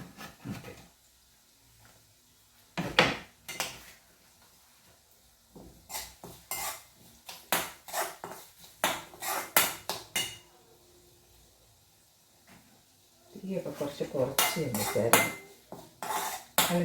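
A knife slices green chillies into small rounds on a board, with sharp bursts of chopping and clatter of kitchen utensils heard near and loud, separated by quieter pauses.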